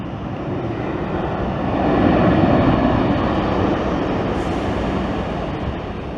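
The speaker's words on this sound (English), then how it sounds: "Another lander as another Delta taxis over." Delta airliner taxiing at an airport, a loud steady broadband jet roar that swells slightly and holds, heard from nearby with no talk.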